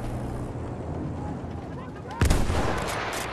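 Gunfire and explosions in the Battlefield 1 video game, a dull rumble of battle that ends in a sudden loud blast, all under a raised, excited voice.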